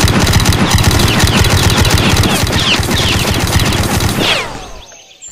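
Rapid automatic gunfire and hit sounds from a Roblox Iron Man battleground game, a dense, loud, continuous burst of shots that thins out and fades near the end.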